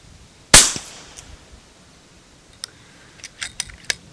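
An FX Crown air rifle fires a single sharp, loud crack outdoors on a windy day while long-range plinking. A few light clicks and ticks follow a few seconds later.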